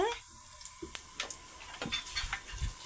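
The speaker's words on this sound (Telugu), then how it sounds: "ఆయిల్ హీట్ అయిన తర్వాత రెండు ఎండుమిర్చి కొంచెం జీలకర్ర ఆవాలు కొంచెం పోపు వేసుకుంటున్నాను" Dried red chillies, cumin and mustard seeds crackle and sizzle as they hit hot oil for a village-style Telugu tempering, a steady close frying hiss with scattered sharp pops.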